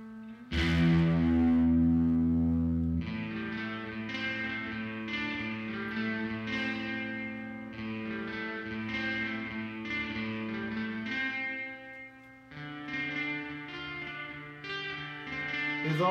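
An electric guitar played through a Behringer DR600 digital reverb on its modulation setting, with sustained distorted chords ringing into a wet, shimmering reverb tail, loud and alone.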